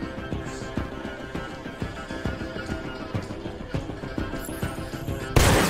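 Rapid, dense volleys of gunfire in the video game Detroit: Become Human crackle continuously, with booming shots layered over each other, ending in a sudden loud burst.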